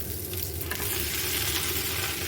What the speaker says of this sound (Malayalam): നമുക്കിനി ഇഡ്ഡലി പൊടിച്ചത് ഇട്ട് കൊടുക്കാം